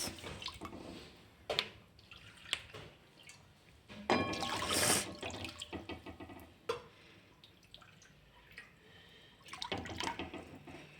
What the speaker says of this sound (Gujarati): કઢાઈની અંદર હું ત્રણ કપ જેટલું પાણી ઉમેરીશ